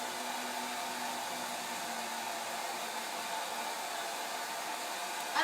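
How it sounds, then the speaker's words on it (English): A hair dryer blows steadily with an even, airy whir, holding a constant hiss throughout without pause. "I'm going to hit this with a little bit of a hairdryer again"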